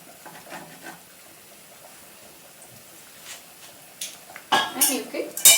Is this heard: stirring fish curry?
yes